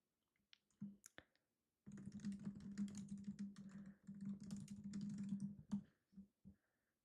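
Rapid clicking of computer keyboard keys as a headline is typed for a magazine cover in Canva, a near, steady run of keystrokes after a few isolated taps, ending with scattered single clicks.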